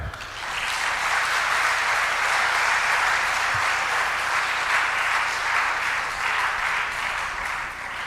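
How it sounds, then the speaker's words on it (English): Sustained audience applause at a national chess championship event, a steady, even wash of many hands clapping that continues without pause and without talk. "Give them a clap."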